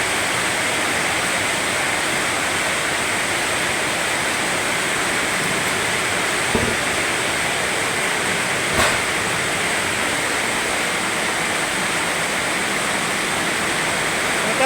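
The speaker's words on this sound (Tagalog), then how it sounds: "napakalakas ng buhos ng ulan" A heavy nighttime downpour in Dasmariñas, Cavite pours down as a dense, unbroken roar of rain, loud and steady throughout, with a couple of faint knocks and no talk.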